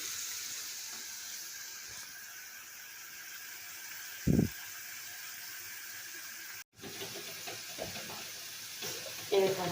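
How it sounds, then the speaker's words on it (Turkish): Steady hissing sizzle of potatoes frying in oil, continuous and moderately close, with a few brief knocks and clatters along the way. "patatesim kızarmaya başlamıştır"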